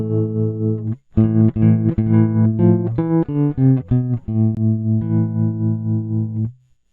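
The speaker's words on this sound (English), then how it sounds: "So I'll just play a few notes on the guitar." Guitar notes run through recording-track effects ring out distorted and chorused, a short series of sustained plucked notes after a brief first note, with no talking.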